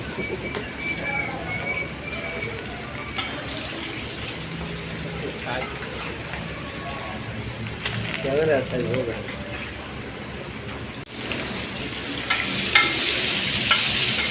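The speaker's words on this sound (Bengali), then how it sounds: "মাছ ভাজা শেষ পর্যায়ে" Hilsa fish sizzles steadily in hot oil with occasional stirring and scraping, while a voice speaks intermittently over the frying.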